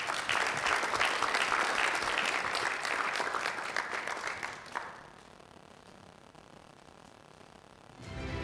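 A conference audience at a business forum applauding the CEO as he is welcomed on stage. The dense, loud clapping lasts about five seconds, then thins and fades into quiet room noise.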